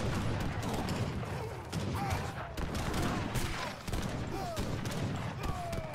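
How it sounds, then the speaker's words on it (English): In a musket-era strategy video game, cannons fire on infantry amid dense, continuous battle gunfire. Repeated shots and bursts crackle over a constant loud din, with sounds of fighting layered underneath. "these cannons need to get work on the infantry"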